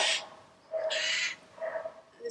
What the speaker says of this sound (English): This bird is very loud.